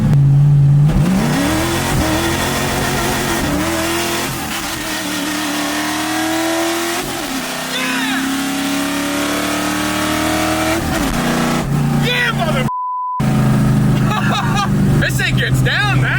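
A 1965 Ford Mustang engine revs up and accelerates hard at full throttle, its pitch climbing steadily through the gears, loud and close, with voices talking over it.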